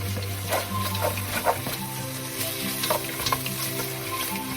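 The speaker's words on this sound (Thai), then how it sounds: "ผัดหมูแล้วก็ต้องระวังมันจะไหม้นะครับ" Pork stir-frying in a hot pan, a loud continuous sizzle close by with repeated scraping strokes of a spatula stirring the meat, no voices.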